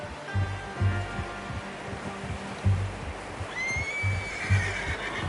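Horse whinnying in a video game, with a repeated rhythmic low thudding of hooves beneath and a rising whinny later; wind or water ambience in the background, no speech.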